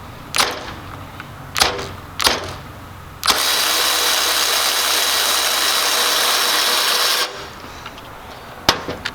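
Milwaukee M12 Fuel 3/8 inch cordless ratchet torquing to 40 foot-pounds: a few sharp clicks, then a steady loud motor whir for about four seconds, followed by quiet and one last click.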